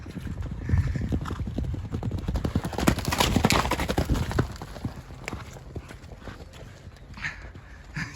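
Mares moving about and being urged to burn off energy, their hooves clip-clopping in a steady, busy patter across the whole stretch, close and fairly loud, with a whinny or two and no clear talk over it.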